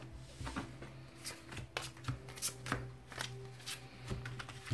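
Oracle cards from a Morrigan deck are shuffled by hand for a reading, with soft papery riffles and slaps recurring at an uneven pace, close and fairly quiet, over a low steady hum, with no one talking.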